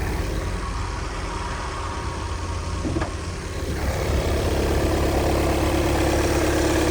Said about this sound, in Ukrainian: Гляньте на 200 тисяч, як працює двигун.